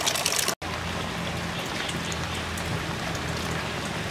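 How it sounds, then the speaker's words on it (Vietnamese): Heavy rain pours down steadily during home cooking, a dense, loud hiss and patter that runs almost unbroken apart from a split-second dropout near the start. "Mưa quá, đã mưa quá xá rồi mà."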